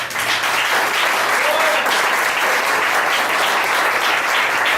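A church congregation applauds during a sermon, a thick continuous burst of clapping from many hands, steady and full from start to finish.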